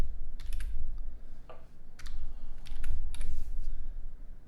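Keystrokes on a computer keyboard as a password is entered, several quick bursts of close clicking separated by short pauses over a low background hum.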